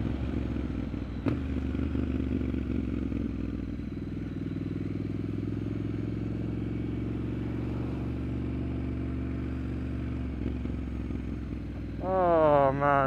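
A Triumph Street Scrambler motorcycle engine drones steadily while riding in the rain, with a continuous low hum and wind noise, and the engine note rises sharply as it accelerates near the end.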